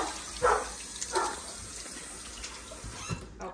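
Tap water running in a kitchen sink while hands are washed with soap, a steady close splash with a few louder bursts as hands move under the stream.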